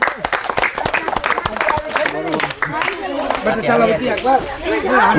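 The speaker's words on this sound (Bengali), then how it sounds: "প্রতিযোগীর হাতে তুলে দিলাম হাততালি তার জন্য" Studio audience applauding and clapping for a contestant in a game of knocking down steel balls with a plastic ball, steady crowd clapping mixed with chatter and babble throughout.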